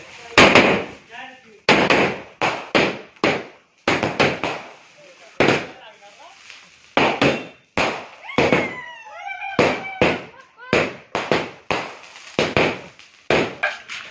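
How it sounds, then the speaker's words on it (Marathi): Firecrackers burst in a Ganesh Jayanti celebration, a rapid irregular series of loud sharp bangs with crackling tails, some whistling pops between them, and people talking in the background. "बॉम्ब लावतो आम्ही लोक, तुम्ही पण या बॉम्ब लावायला."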